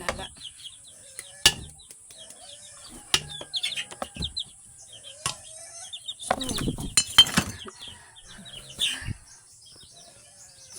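Backyard pet chickens clucking in short scattered calls, mid-distance, with occasional sharp knocks and clatters of containers and a faint steady high hiss behind them.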